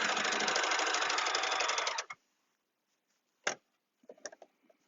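An overlocker sews and trims fabric in a fast, loud mechanical run of about two seconds, then stops, followed by a few isolated clicks and light handling noises.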